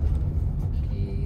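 A car engine rumbles steadily up close as the driver gives it gas, a low continuous drone with a slight rise in pitch toward the end while pulling away in gear during a driving lesson.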